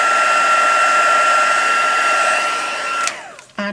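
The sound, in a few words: heat tool heat setting embossing on handmade card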